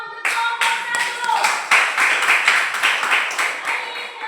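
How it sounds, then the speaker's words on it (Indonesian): A classroom of students claps together for a presenting group, loud, close, uneven clapping in quick rhythmic bursts that carries on for a few seconds, with a few voices underneath. "kita beri tepuk tangan dulu untuk kelompok 1"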